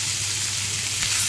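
Onions sizzle in hot oil in a pan after fish has been fried in it, giving a brief, even, loud hiss with no voices.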